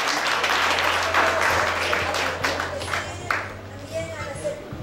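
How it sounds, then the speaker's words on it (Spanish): Church congregation applauding loudly in a hall, thick clapping that swells early and then thins out into scattered claps and murmuring voices. "Recibimos con fuertes aplausos de esta tarde."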